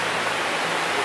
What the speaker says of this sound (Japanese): 隣をね 流れてる 川がね、 もう轟音を響かせてますよ